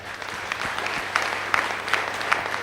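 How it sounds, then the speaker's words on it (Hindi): Audience applause at a Safe Shop Diamond award ceremony speech, a dense, steady roll of clapping with a few sharper individual claps standing out, moderately loud, with no voices over it. "मैं चाहता हूं सर के लिए भी जोरदार तालियां।"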